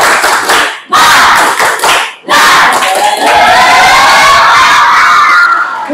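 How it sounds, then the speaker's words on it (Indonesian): A group of young people does a rhythmic spirit clap with shouting and cheering, loud bursts separated by short pauses, then a sustained noisy crowd roar. "Ayo, tepuk semangat."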